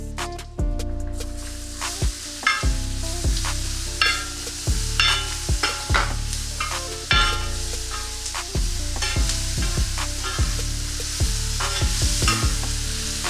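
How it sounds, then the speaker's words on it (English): Chopped onion and curry leaves fry in a pan with a bright, continuous sizzle, punctuated by repeated loud clanks and scrapes of a spoon stirring against the pan, close up. "now fry the onion till it gets rid of the raw flavor"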